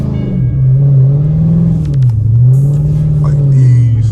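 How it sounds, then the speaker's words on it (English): A Dodge SRT Charger sliding through a 360 turn in a snowy blizzard makes a loud, steady engine drone heard from inside, with the pitch swelling and dipping as the throttle rises and falls, plus faint clatter. "I'm gonna do a 360 right here so that I can slide this corner."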